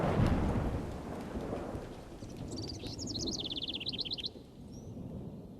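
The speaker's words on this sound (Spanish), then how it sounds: "¿Cómo llueve?" Steady rain with low rumbling thunder, heard outdoors, while small birds chirp in a quick twittering series partway through; no talking.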